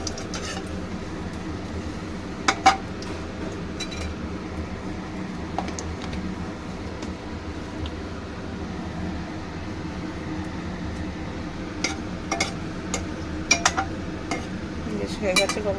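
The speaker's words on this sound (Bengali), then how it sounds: "একটু গরম মশলাটা নেড়ে ছেড়ে নেব।" Garam masala stirred in a pan for mutton curry, a long stretch of low frying hiss with scattered metallic clinks and scrapes of a utensil against the pan, nearby and steady.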